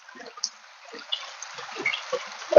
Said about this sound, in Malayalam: ഒപ്പം കുറച്ച് വെള്ളമൊക്കെ ഒഴിച്ച് നമുക്ക് ഇതിലേക്ക് കഴുകി ഒഴിക്കാം.